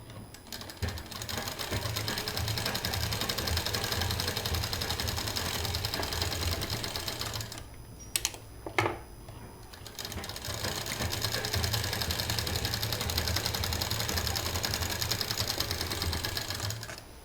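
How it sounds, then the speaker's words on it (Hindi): A sewing machine runs steadily, stitching two 4.5 by 5 inch fabric pieces along their edges for a traditional bandanvar door hanging, with a brief pause midway before the motor resumes its continuous whirring chatter close by. "जो 5 इंच का एरिया है इधर सिल देंगे और इधर से सिल देंगे।"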